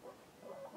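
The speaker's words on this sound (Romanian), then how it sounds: "Uitați găinușele." Hens clucking softly in a farmyard, a few faint, short murmuring clucks spread across under a second, quiet and close with no other sounds.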